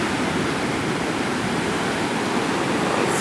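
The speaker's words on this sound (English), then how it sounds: "Look at these waves." Ocean waves pound the Sri Lanka shore, a loud, constant roar of surf that surges right up near a gate and continues steadily without a break or voices.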